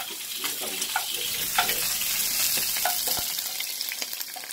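A lobster tail fries in a hot pan with a continuous crackling sizzle and scattered pops, fairly close and alone without speech.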